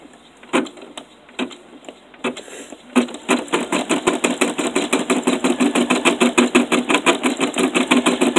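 An embroidery machine stitches orange thread onto toilet paper, starting with a few scattered needle strikes and then settling into a fast, steady, rhythmic mechanical chatter that stays close and loud.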